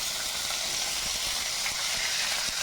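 Green chillies fry with mustard seeds in a hot pan, giving a continuous crackling sizzle with faint clicks from stirring, close and constant throughout, with no talking.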